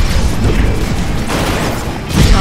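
Satellite laser blast destroying targets in the Cars 2 video game, a loud continuous booming roar with crackling mechanical texture and a fresh burst surging in at the end.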